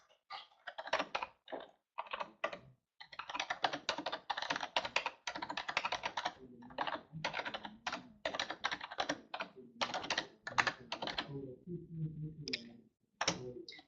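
Fingers typing an email address on a computer keyboard, a close run of quick, uneven key clicks with short pauses between bursts, alone with no talk.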